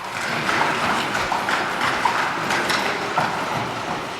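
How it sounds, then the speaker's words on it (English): Horse and cart hooves clip-clop along a deep, spectacular gorge leading to the old city of Petra, a steady rhythm of hoof taps over constant ambient noise, moderately near. "accessible only on foot or by horse and cart"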